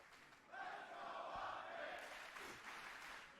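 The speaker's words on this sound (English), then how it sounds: "Crowd getting riled up." An arena crowd at a Call of Duty League esports match between Optic Texas and Florida Mutineers rises into a broad, sustained cheer, fairly loud and continuous with a rising roar midway.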